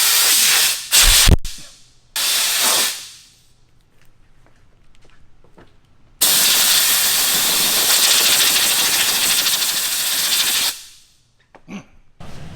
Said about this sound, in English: I'm gonna go blow myself off with the hose